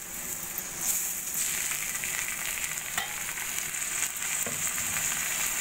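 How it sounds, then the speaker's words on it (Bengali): Washed rice frying in a pan with onions already browned golden, a steady dense sizzle running throughout with a couple of faint scrapes of stirring. "চাল দিয়ে চালটা আমি ভালো করে একটু ভেজে নেব।"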